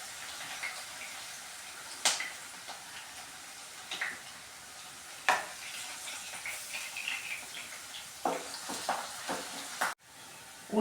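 Onion, green chili and garlic fry in hot oil with a steady soft sizzle, broken by occasional clicks and stirring scrapes close by, with no talk.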